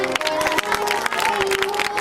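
A devotional gathering at a village Bhagavat katha clapping together, dense steady applause close by with crowd noise and a tonal drone or music running underneath.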